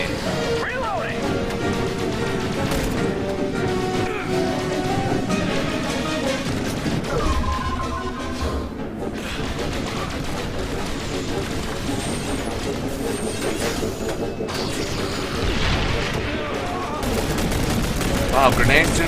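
Grenade blasts and heavy gunfire in XCOM: The Bureau roll on continuously, loud crashes and rattling shots layered under frequent shouted voices throughout.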